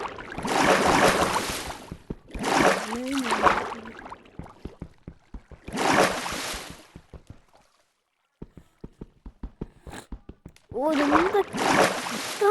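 Water splashing in the Minecraft video game, heard as four loud broadband splash bursts separated by quieter stretches of small clicks, with a voice sounding over some of the splashes.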